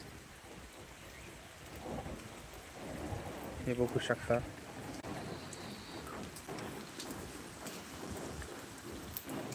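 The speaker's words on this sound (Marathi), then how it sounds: "पावसाचा जोर कमी होऊन तुरळक प्रमाणात पाऊस सध्या चालू आहे" Light rain falls on a farm area, making a steady soft patter with a deeper low rumble mixed in, while someone talks over it.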